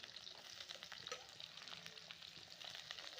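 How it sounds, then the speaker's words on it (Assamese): Mutton pieces frying in oil in a pan in a village kitchen, a faint, steady crackling sizzle with small pops throughout, no voices. "এয়া মটনখিনি ভাজি আছে মায়ে"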